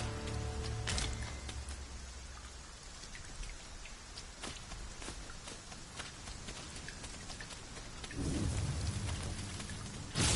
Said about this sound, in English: Shall we prop up our tent and get out of the rain for a spell?